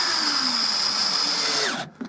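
Close up, a battery drill runs a door panel bolt home on a 2004 Ford Fiesta mk5, its even high-pitched whir held for nearly two seconds before spinning down, followed by a brief clack.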